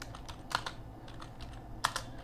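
Someone types C code on a computer keyboard with sparse, quiet clicks up close and a couple of sharper keystrokes.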